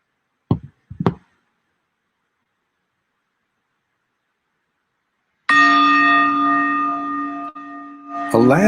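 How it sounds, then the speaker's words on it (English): After two quick knocks and a long silence, a bell is struck once and rings out with a bright, sustained, slowly fading tone. "Allow the sound of the bell, the vibration of the bell to take you a little bit deeper."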